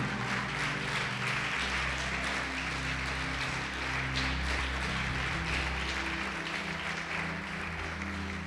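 A church congregation applauds during a sermon, producing a continuous wash of clapping over a low steady hum, moderately distant and fairly quiet throughout.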